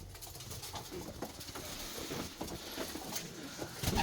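Pigeons of a fancy breed coo repeatedly in a coop, soft throaty calls close by over a steady rustling background with no talk.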